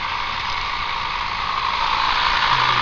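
Cotton picker engine running at a steady idle, a continuous drone with a strong mid-range hum and hiss, loud and close with no pauses.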